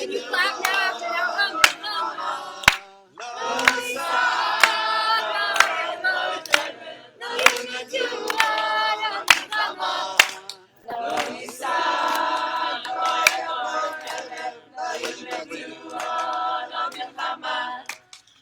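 Audience at a Torah class and beer gathering clapping along in bursts, rhythmic claps mixed with voices and singing, rising and pausing between phrases.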